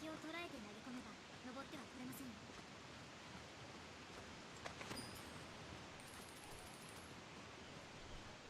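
Waterfall in the video game Dragon's Dogma: Dark Arisen, a steady broad rushing wash of falling water filling the scene, faint overall, with a few brief game sound effects over it.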